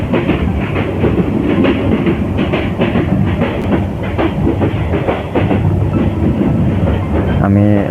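Passenger train from Dhaka rolling toward Sylhet railway station, heard from inside a carriage as a loud, continuous rumble with rhythmic clickety-clack of wheels over rail joints and a brief squeal near the end.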